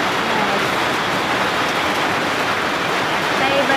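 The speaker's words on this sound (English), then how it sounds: "I got video of this rain here." Rain pours in a dense, close, unbroken hiss for a few seconds, fairly loud and constant.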